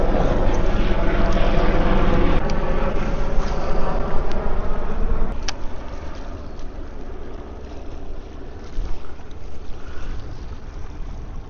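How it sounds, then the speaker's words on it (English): Helicopter passing overhead above San Diego Bay, a loud continuous rotor and engine roar that fades gradually as it moves away, heard from a fishing boat with no talking. "perfect timing too with a helicopter"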